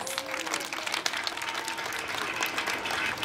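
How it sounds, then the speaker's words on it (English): A crowd at an amusement park show claps for two-step dancers, a sustained wash of applause with some cheering, steady and moderately loud. "Give our two-steppers a round of applause."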